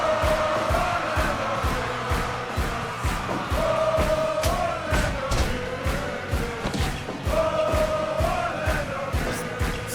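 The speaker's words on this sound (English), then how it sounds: "The crowd just absolutely deafening in favor of their hero" A loud crowd at a boxing event roars steadily for hometown fighter Orlando Nunez, with repeated thumping impacts sounding through the dense cheering.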